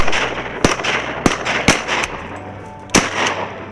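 Shotguns fire during a duck and goose hunt in Canada. Four sharp, loud, close blasts come in an irregular sequence, with outdoor ambience and faint rustling between them.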